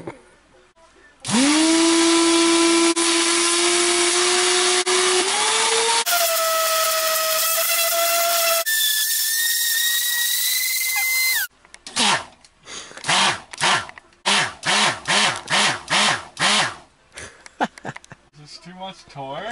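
A small high-speed motor with attachments fitted whines loudly at a steady pitch that steps higher twice, then breaks into a choppy run of short revving bursts and sputters.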